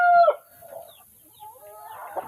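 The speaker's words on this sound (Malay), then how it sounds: "Lomeng Brown ni adalah ayam kacukan lah" A crossbred Lomeng Brown chicken crows loudly up close, then clucks in softer, broken calls, with more crowing and clucking from farm fowl nearby.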